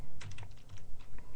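Keys clatter on a computer keyboard in a quick, steady run of close, distinct clicks, with no voices.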